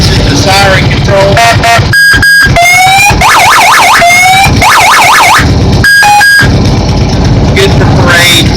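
A Carter Brothers mini monster truck sounds its siren, loud and close, cycling through rapid wailing, yelping and alarm-like warbling patterns with brief gaps between modes.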